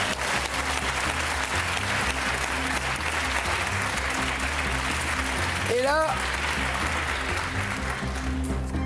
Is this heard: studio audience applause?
yes